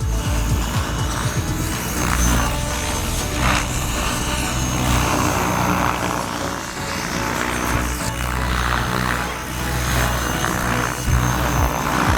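An RC helicopter flies low over a dusty field at a helicopter festival, its rotor and motor whirring loudly and continuously nearby, rising and falling slightly as it moves.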